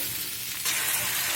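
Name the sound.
spices being sautéed in a pan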